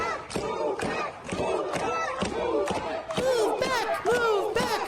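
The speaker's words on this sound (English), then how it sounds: "When you hear these cheers, do you think like it's a bunch of men?" Protest crowd at a Portland, Oregon event chanting in rhythmic repeated shouts, loud and close, several voices in unison with short pauses between chants.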